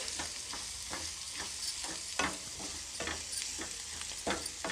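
Oggarane, a South Indian tempering of spices in hot oil, sizzles steadily in a pan while a spoon stirs it with repeated scraping strokes, close and fairly quiet, with no talking.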